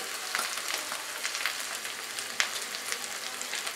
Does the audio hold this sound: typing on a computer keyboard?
no